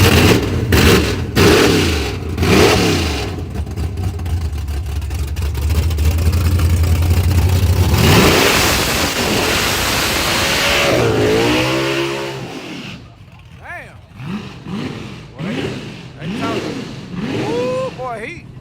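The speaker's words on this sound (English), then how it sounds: "Do a strong burnout, all that revving, ooh wee." A car engine revs hard and loud through a long burnout at a small-tire drag racing event, roaring up and down, with people talking and shouting over it toward the end.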